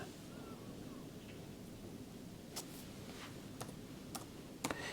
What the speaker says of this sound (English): You may hear some rain sounds.